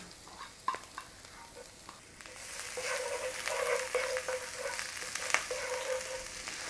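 Garlic and ginger fry in a pan with cumin seeds. A soft sizzle swells and holds steady, with a few clinks of stirring, and no talking.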